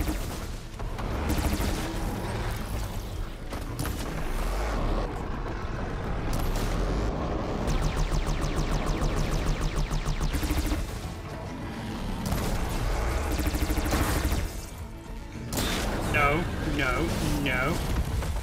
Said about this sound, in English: He doesn't know where to point the damn cannons.